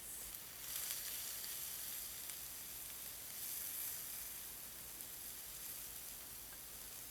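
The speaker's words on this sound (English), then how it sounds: "we're going to put our onion" Onion sizzling in a pan with minimal oil, a soft steady frying hiss that runs alone and evenly throughout at low volume.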